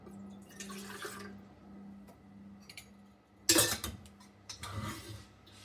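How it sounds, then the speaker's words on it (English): Coffee drips through a pour-over brewer into a mug at home, heard as soft, close trickling and dripping with a faint low hum beneath and a couple of louder clinks or splashes. "dumping it in this so that I can brew it through my pour over"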